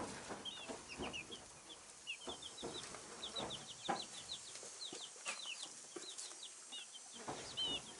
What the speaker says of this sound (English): These are supposed to be the colored legs, the Cleopatra look chicks.